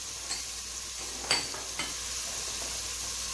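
Onion and pepper frying in a pan with steady broadband sizzle throughout, broken by a couple of brief stirring scrapes, alone with no voices.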